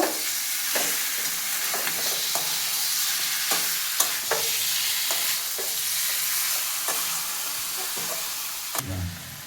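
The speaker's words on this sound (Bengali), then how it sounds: "দিয়ে দেবো একটুখানি মশলার মতো হলুদ, দিয়ে দেবো আদা কাঁচা লঙ্কা বাটা। ভালোভাবে কষিয়ে নেব।" Turmeric, ginger and green chili paste stir-fried with chicken in a pan, a steady sizzle under repeated scraping spatula strokes, close and fairly loud, with a metallic clatter near the end.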